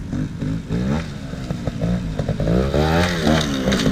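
A 250 dirt bike revs loudly nearby, its engine rising and falling through repeated throttle blips at a pipe jump.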